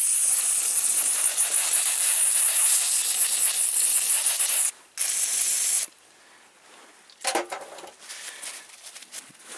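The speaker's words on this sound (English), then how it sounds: "So spray that." A loud, steady hissing spray of cleaner onto a dirty transmission spring runs for several seconds, breaks briefly, resumes, then stops, followed by a few softer clicks and rustles nearby.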